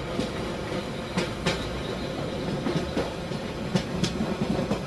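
A passing train running alongside on a parallel track in an Indian train simulator game, with steady continuous rail rumble and periodic clickety-clack wheel clicks, fairly loud and close, no talking.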